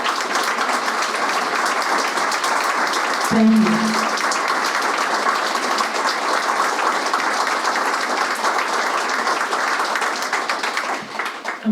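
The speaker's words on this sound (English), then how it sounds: "I would like all the crew members from the motor yachts Loon and Laurel to please stand up and receive an ovation from the crowd." A crowd at a press conference gives a sustained ovation of loud, dense clapping for crew members of the motor yachts Loon and Laurel; a brief spoken thanks cuts in near the middle.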